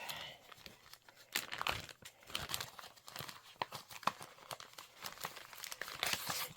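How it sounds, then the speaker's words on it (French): Soft crinkling and tearing of a paper envelope as a cross-stitch embroidery pattern is slid out, close and fairly quiet, with irregular rustles and small snaps throughout. "je vais la sortir de l'enveloppe."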